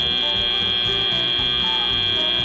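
Steady, loud match-end buzzer at an FTC robotics tournament, a continuous electronic tone held for the full stretch over low crowd and arena noise, with no talk.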